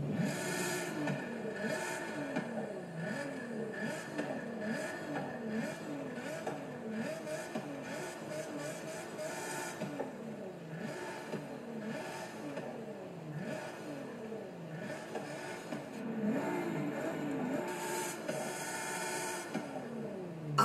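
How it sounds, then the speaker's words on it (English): A 2020 Nissan GT-R R35 Nismo in Forza Horizon 5 revs repeatedly, its engine note rising and falling in steady shift cycles, loud and continuous throughout with no talk. "let us listen to the sound of this monster"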